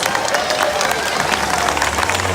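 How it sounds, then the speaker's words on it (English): Audience clapping and cheering at a marine park killer whale show, a steady dense crowd wash that holds at the same level throughout the short stretch. "Everyone give them a big round of applause."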